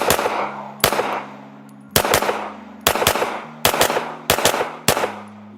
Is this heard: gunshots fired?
yes